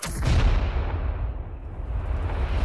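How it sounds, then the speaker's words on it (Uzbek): A deep explosion boom in a money challenge game, opening with a sharp burst and then a heavy, sustained low rumble that stays loud for a couple of seconds, with no voices. "seni pullaring portlab ketadi."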